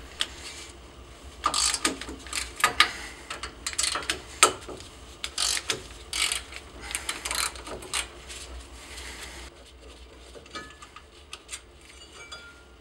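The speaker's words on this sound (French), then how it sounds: "Maintenant, on va enlever l'étrier fixe afin d'avoir l'accès au disque." A ratchet wrench loosens the fixed brake caliper on a Fiat 500 1.2L during a disc and pad change, producing close bursts of quick clicking strokes with short pauses and metallic rubbing, with no talking.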